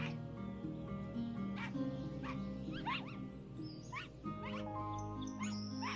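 Dog barking and whimpering in a dreamlike woodland video game, several short yips and whines set over a steady, loud musical score with no talking.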